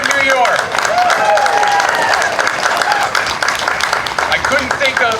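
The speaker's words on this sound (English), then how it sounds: "Let's give another round of applause for our first female governor of the great state of New York." An audience in Johnstown, New York, claps loudly and continuously for the state's first female governor, a dense, steady round of applause with voices mixed in throughout.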